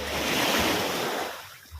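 High sea waves surge at a Philippine shoreline in a continuous broad wash of surf, loud and close, easing toward the end with no speech.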